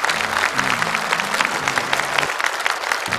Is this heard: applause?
yes